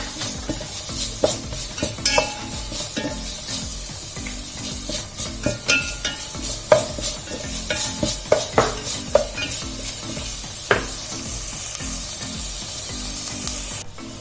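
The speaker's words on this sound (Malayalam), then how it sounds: "അങ്ങനെ ഉള്ളി കുറച്ച് വഴന്ന് വന്നിട്ടുണ്ട്." Chopped onions sauté in a frying pan for a prawn and snake gourd curry, with a steady sizzle and repeated scraping strokes of a spoon stirring throughout, close and alone without voices.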